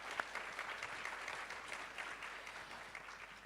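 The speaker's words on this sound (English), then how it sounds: "big round of applause for all the panelists here" Audience applause for a panel of speakers at the close of a talk on artificial intelligence, a dense steady wash of many hands clapping at moderate distance with no voices over it.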